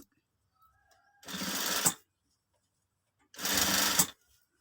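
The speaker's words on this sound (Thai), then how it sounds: "เย็บย้ำ" A sewing machine backstitches while replacing the elastic in a trouser waistband, running in two short, steady bursts of about a second each with a quiet pause between them. No one speaks.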